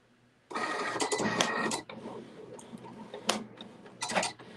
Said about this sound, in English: I just want to make sure it's not going to fold when the machine takes it